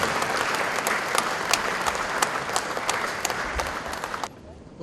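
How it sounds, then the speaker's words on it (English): An audience at a Sri Lankan Independence anniversary event in Melbourne gives a loud round of applause for high achievers and their parents, with crisp individual claps over the dense clapping until it cuts off abruptly near the end. "please give another round of applause for our VC 2019 High Achievers and their parents"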